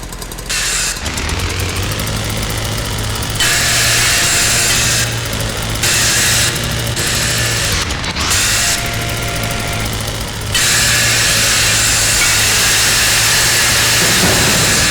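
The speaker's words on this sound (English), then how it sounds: "Let's go dual power tool." A loud motorized slicer power tool in the video game H3VR whines and buzzes, cutting in and out in repeated bursts with brief pauses, then running continuously near the end.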